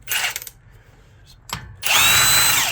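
A power drill spinning a 19mm socket to pull caps off the wheels of an FL5 Civic Type R during a wheel spacer install: two loud, close whirring bursts separated by a short pause.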